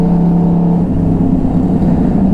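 A 2012 Yamaha R1 crossplane motorcycle engine holds a loud, steady rev close by, a deep continuous throb with no talking.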